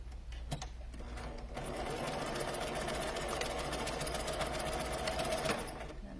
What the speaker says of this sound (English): grab the other end of that piece of elastic and tuck it up into this corner and sew it back stitching again.